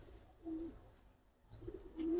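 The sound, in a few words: pigeons cooing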